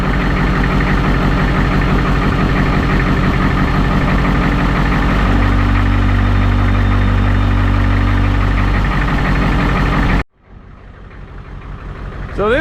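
A diesel engine in a Low Pro International truck runs roughly with mechanical trouble, a loud steady idle with a shifting note midway, then it cuts out abruptly near the end, leaving faint background noise.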